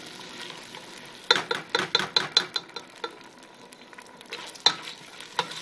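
Tomato paste fries and is stirred in a pan for pig feet stew, a bright sizzle under a run of rhythmic, close scraping strokes that pause and then return.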